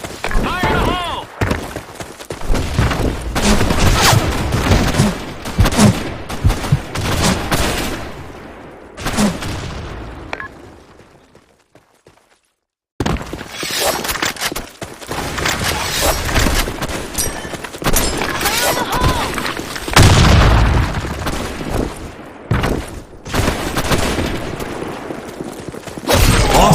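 Grenade explosions and gunfire fill an online shooter match: dense rattling bursts, sharp shots and booming blasts run almost without pause around one brief lull. Players' voices call out over the din.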